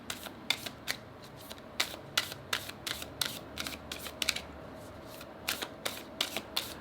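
Oracle cards from an Animal Oracle deck are shuffled by hand in quick repeated riffles and snaps, close and fairly quiet, in irregular bursts without speech.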